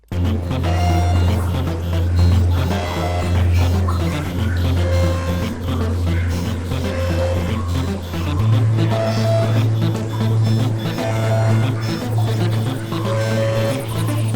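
Dense layered Serum synth bass built in FL Studio, a loud sustained wall of sound with deep droning low end and busy rhythmic upper layers that shift partway through, with no voices.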